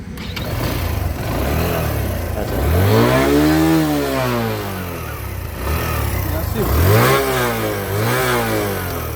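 A 2025 Suzuki GSX 125 motorcycle engine runs nearby and is revved twice, each time rising in pitch and falling back, with a steady idle between the revs.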